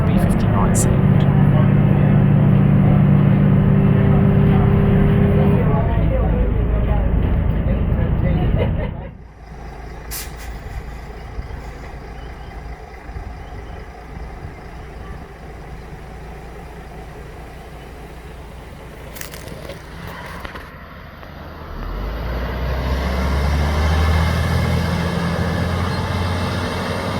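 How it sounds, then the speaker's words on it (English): Volvo B59 bus driving past: a loud, close engine rumble fades sharply as the bus moves away, leaving quiet road ambience with brief clicks before another deep engine sound swells back in near the end. "let's finish today's video with a quick drive past so you can get a smidge of B59 sound"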